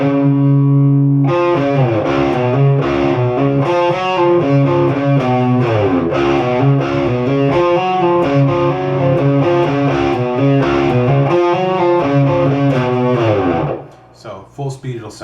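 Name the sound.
distorted electric guitar riff, played slowly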